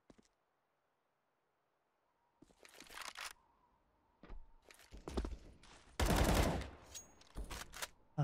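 Gunfire in Counter-Strike during a competitive match: scattered sharp shots and short bursts after a brief silence, with a loud dense volley near the end, punchy and close.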